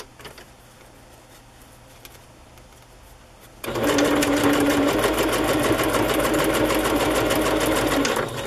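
A sewing machine stitches a scrap of lace onto a handmade music-themed journal, starting abruptly after a quiet pause and running as a loud, steady, continuous whir close by until the end.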